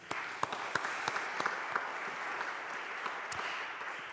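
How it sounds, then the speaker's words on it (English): A congregation claps at an Annual Parochial Church Meeting, a moderate steady round of applause from a crowd in a room with scattered louder individual claps, fading gradually. "a round of applause for them too"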